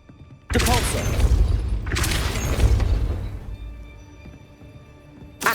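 The Depulso push spell cast in Hogwarts Legacy, two sharp forceful bursts in quick succession with a whooshing, thudding rush after each, then fading to a quiet background before another onset at the end.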